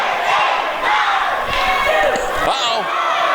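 A large wrestling arena crowd chants and roars together in unison, a loud dense wall of voices with thuds from the ring beneath, sustained throughout.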